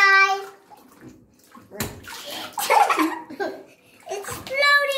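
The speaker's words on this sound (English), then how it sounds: "A big splash." A soccer ball drops into a tub of water with one sharp splash and some sloshing, surrounded by a child's and an adult's voices talking during a sink-or-float activity.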